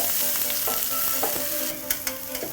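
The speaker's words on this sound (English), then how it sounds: "Curry leaves going in. And we're just going to fry these" Curry leaves fry in a pan with a steady, close hiss and sizzle, broken by a few small crackles and pops near the end. No voices are heard.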